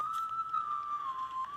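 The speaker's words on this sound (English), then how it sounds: "the music, which was an eerie whistling tune." Eerie whistling tune from the board-screen music of the NES game Godzilla: Monster of Monsters, a steady sustained whistle-like melody line gliding gently in pitch, alone and fairly quiet.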